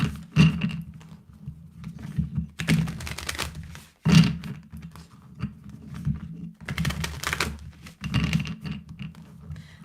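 Oracle cards being shuffled in several quick riffling bursts, each with papery flutters and soft thumps, separated by brief pauses.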